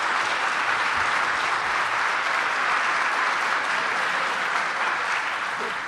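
An audience at a book festival breaks into steady, dense applause, an even wash of many hands clapping that holds at the same level throughout without pause.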